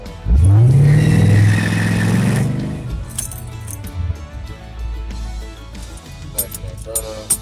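Carbureted 5.3 LS-swapped car accelerating hard on a street pass, a loud rising engine roar for about two seconds that fades as it pulls away, leaving low rumble and background noise.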